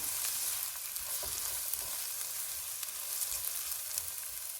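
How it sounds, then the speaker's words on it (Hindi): Carrots stir-fry in a pan on medium-high heat, giving a loud, continuous sizzle and hiss with faint scraping throughout. "इसमें गाजरें डालेंगे। चूल्हे को मीडियम टू हाई रखेंगे और इनको 2 मिनट तक भूनेंगे।"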